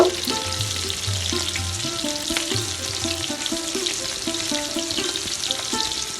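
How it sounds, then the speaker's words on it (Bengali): Large freshwater prawns for malai curry fry in a pan, a loud, dense, continuous sizzle held close, with a faint rhythmic hum running underneath and no talking. "তো মাছটা আমি লাল লাল করে ভেজে নিব"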